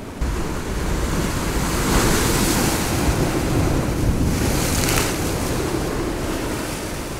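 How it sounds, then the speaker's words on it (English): Ocean waves wash in along the shore at Marine Drive, a loud continuous surf roar with a couple of swelling crashes, heard from close by amid strong wind buffeting the microphone. "see if I can get a glimpse of these waves splashing out this way"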